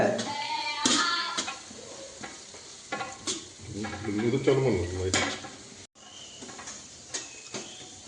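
Green chillies sizzling and frying in a pan, with stirring scrapes and clinks of a utensil against the pot in uneven bursts, close and moderately loud with no talk.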